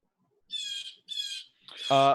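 A bird squawks twice in short, bright, high-pitched calls in the background of a video game, followed by a rougher, louder cry, all quiet and slightly distant.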